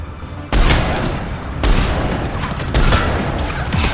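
Black Widow sniper rifle in Mass Effect 3 firing three loud, sharp shots spaced about a second apart, each a heavy blast with a sustained echoing tail, close and dominant.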